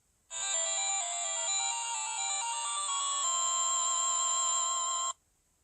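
A short bright chiptune victory jingle from the Game Boy game Super Mario Land 2, with rapid stepped electronic beeps climbing to a held final tone, clear and alone for about five seconds.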